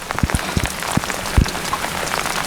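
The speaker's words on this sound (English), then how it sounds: "we've got problems like this all over with having no gutter and such heavy rain" Heavy rain pours down on a house with no gutters, a dense, steady hiss of drops broken by nearby heavier splashes and drips.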